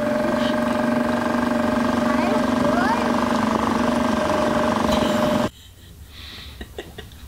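Motorboat engine drones steadily close by as the boat pulls away, a loud continuous hum that cuts out abruptly near the end, leaving quieter water and background sounds.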